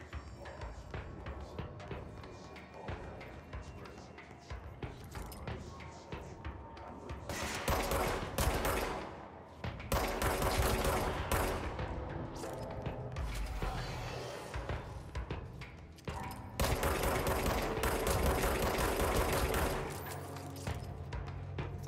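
Dense gunfire from the video game Control on Xbox One: sustained volleys of shots that surge louder in stretches and then ease, with no talk over them.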